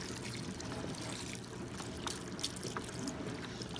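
Vegetable stock, about 32 ounces from a carton, poured into a soup pot for black-eyed pea soup with ham hocks, a steady low trickling gush running close and moderately loud throughout.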